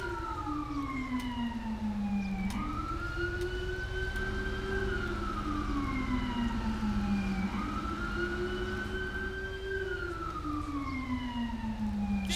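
A wailing ambulance siren in the video game Grand Theft Auto V sweeps up and down in slow, repeating cycles, loud and continuous over a low engine rumble.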